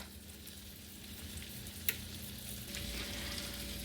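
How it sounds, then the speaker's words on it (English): Chopped garlic sizzles in melted butter in a pan, a steady close hiss with a faint clink partway through and no talk. "now that our butter is melted, we're going to go ahead and add in our chopped garlic"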